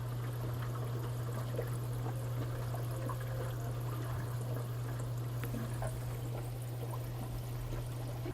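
Steady water flow and trickle during the backwash of a Zoller Fusion wastewater treatment system, a continuous pouring wash under a constant low mechanical hum, with no talking.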